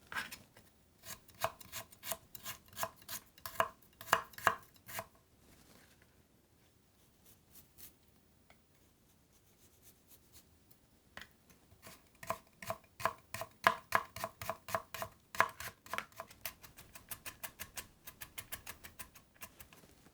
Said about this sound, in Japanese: にんにくは縦半分に切って芽があれば取り除いてみじん切りにします。